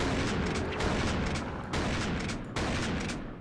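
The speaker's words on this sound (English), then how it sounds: "we'll shoot it through with lead" Sustained gunfire in the video game The Thing, a dense continuous roar of shots with two brief breaks and no voices over it.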